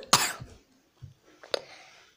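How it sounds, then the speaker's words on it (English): A sharp, loud cough followed by a second smaller one, then a brief throat-clearing cough after a pause; no talking. "I know, I've got a cough sadly today"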